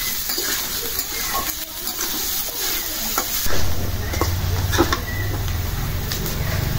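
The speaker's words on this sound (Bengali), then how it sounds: "পেঁয়াজটাও ভাজা হয়ে যাব, আলুটাও আর একটু ভাজা হয়ে যাবে।" Potatoes and onions frying in a pan while being stirred, a steady close sizzle with clattering scrapes and knocks, growing louder and denser partway through.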